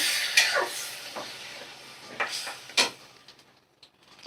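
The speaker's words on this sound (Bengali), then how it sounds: "এই যে সিদ্ধ করা মুসুর ডাল তো ডালটা দিয়ে দিলাম" Boiled red lentils tipped into a pan and stirred with a spoon, giving a few scattered scraping and sloshing strokes with faint sizzle in between, fairly quiet and irregular.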